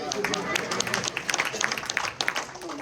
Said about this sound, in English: Oh, you can clap if you want.